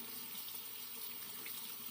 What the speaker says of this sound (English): under running water you can get the lather out pretty easily